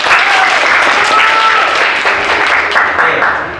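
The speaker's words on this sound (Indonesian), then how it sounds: "tepuk tangan ya anak-anak ya" Schoolchildren clap together in a classroom, a steady dense applause running throughout with high children's voices calling out over it, loud and close.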